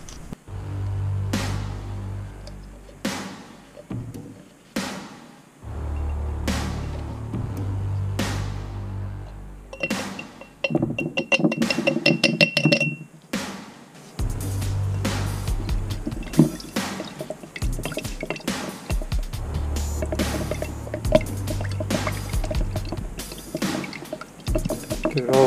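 Cerakote clear coating being stirred together with mixed-in powder, giving wet, sloshing, clicking strokes with scattered sharp ticks, a low steady rumble underneath and a few brief pauses throughout.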